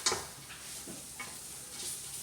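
Onions, peppers, bacon, garlic and flour toast in a pot with a faint, steady sizzle, broken by a sharp stir or scrape at the start and a few soft clicks of a utensil.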